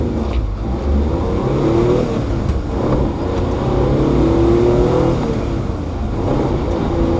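A small manual-transmission truck engine revs and pulls through gear changes, rising and falling loudly and close by without pause, with no talking.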